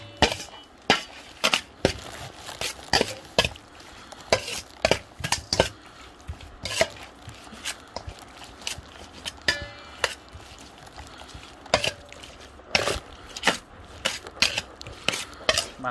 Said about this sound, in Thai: แล้วก็คนนะครับให้มันเข้ากัน